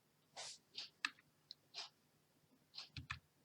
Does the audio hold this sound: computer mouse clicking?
yes